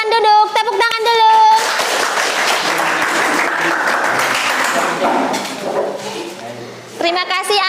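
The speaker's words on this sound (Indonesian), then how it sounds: "Tepuk tangan dulu." Classroom audience applauds at a teacher-training session in Malang, a dense burst of clapping lasting several seconds, framed by children's voices chattering before and after.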